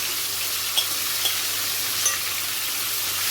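Food sizzling in oil heated in a pan, a steady close hiss with a few faint pops and no voices.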